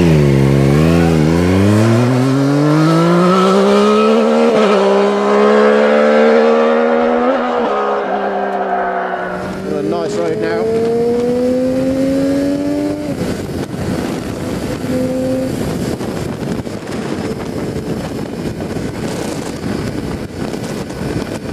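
A Triumph Street Triple RX's three-cylinder engine climbs through its revs while riding, easing off and then pulling again in a higher gear, with steady wind rush over the microphone and no talking.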